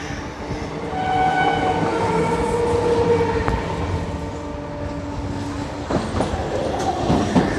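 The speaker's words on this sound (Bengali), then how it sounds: "দাঁড়িয়ে আছি স্টেশনে, একটার পর একটা ট্রেন আসছে" Trains pulling into a railway station rumble steadily and loudly up close, with wheel clatter, a sustained horn-like tone and sharper clanks toward the end.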